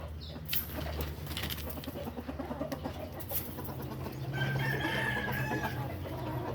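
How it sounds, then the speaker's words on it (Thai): Chickens at an evening feeding cluck and call close by, with one bird letting out a drawn-out rooster crow partway through and other fowl chattering underneath. "ไก่ใหญ่นะครับไก่ใหญ่"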